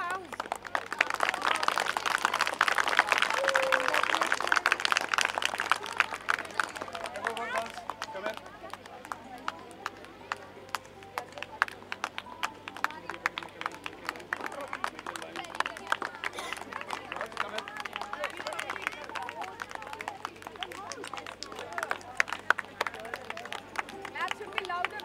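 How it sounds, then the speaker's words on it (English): A crowd clapping for their house team at a school annual sports meet, a loud burst of applause at the start that thins into scattered claps and cheering, with an announcer talking over it. "Come on, clap for your house."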